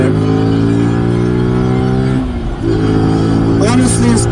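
A Zontes G1 125 scrambler motorcycle pulls hard in third gear in sport mode, its engine droning loud and steady with a strong harmonic hum. A rider talks over the noise.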